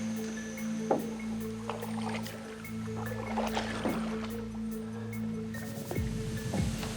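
Small boat moving very slowly through a narrow, nearly still Amazon creek, with a steady low motor hum and soft, intermittent water splashes and drips close by.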